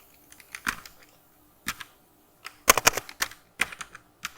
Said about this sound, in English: here I'm going to type a message